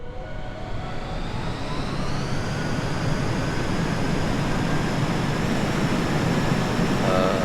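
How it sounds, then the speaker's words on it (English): Jet engine roaring in Kerbal Space Program, a steady, loud turbine drone that builds slightly and holds, with a thin high whine riding on top and no talking. "Oh no, I love jet noise."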